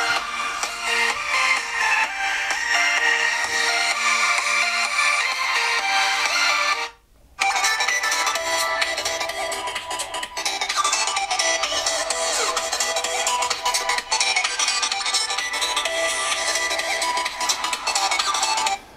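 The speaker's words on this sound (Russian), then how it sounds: "В смартфоне у нас установлены стереодинамики." Music plays loudly and continuously from the stereo speakers of a TECNO POVA 3 smartphone, cutting out briefly for a moment before resuming at full volume.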